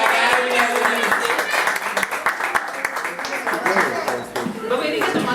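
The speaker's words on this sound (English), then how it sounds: "Give them all a round of applause to help us out." An indoor audience claps and applauds at a show with rockets and bubbling potions, a steady patter of hand claps with a voice talking over it throughout.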